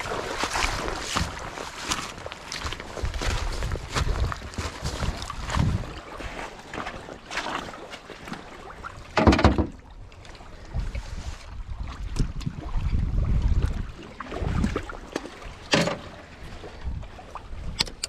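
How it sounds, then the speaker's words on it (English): Wind buffets the microphone at a lakeshore during winter bank fishing, a loud, continuous rumbling roar with gusty surges and sharp thumps throughout, no talk heard. "This wind's at our face here, and it's gonna make the audio funky"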